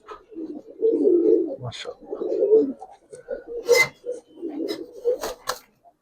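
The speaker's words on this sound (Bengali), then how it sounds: "মাশাআল্লাহ খুব প্রিমিয়াম কবুতর মাদিটা ভাই" Giribaz pigeons, among them a premium hen, coo close by in repeated low throaty bursts, broken by sharp clicks and rustling between calls.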